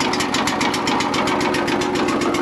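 Small engine running steadily right after being started with the choke on and fuel open, a loud, close, rapid pulsing putter with no pauses and nobody talking over it.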